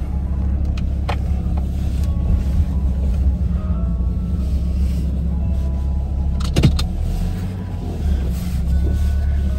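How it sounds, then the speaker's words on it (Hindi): A car engine hums steadily from inside the cabin as the family drives off, a constant low rumble with a few faint clicks and rattles. "गाड़ी भी गर्म हो गई है, अब निकलते हैं."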